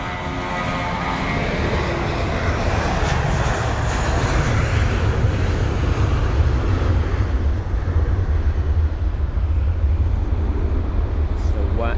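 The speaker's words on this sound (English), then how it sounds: "that's the Middle Eastern Airlines 320." A Middle East Airlines Airbus A320 arrives at London Heathrow, its jet engines roaring steadily and growing heavier and lower as it passes, with a voice talking over the noise.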